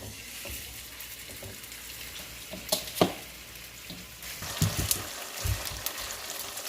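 Meat fries in a brand-new pan over medium-low heat, giving a steady hiss with a few louder pops and crackles toward the end, and no voices.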